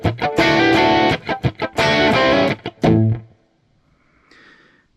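Distorted electric guitar rock riff, bursts of chords with a third-string hammer-on from flat third to major third, loud and choppy, stopping abruptly into near silence.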